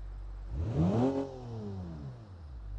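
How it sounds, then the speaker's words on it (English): Sports car engine in the racing game Automation revving once, climbing in pitch to a loud peak and then falling away to idle, heard alone. "the engine sounds way quieter"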